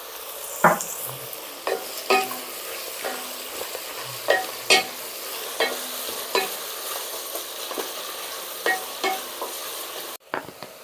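Onions stir-fried with salt in a pan for chicken biryani, a soft continuous sizzle broken by a dozen sharp scraping and clinking strokes of a spatula at an unhurried rhythm.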